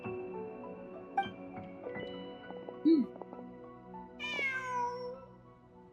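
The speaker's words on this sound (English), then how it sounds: "Oh no, the cat! Huh. Just a cat." A cat in the video game Genshin Impact gives a short meow, then a longer, higher meow a moment later, both clear and fairly close over quiet in-game ambience and soft tones.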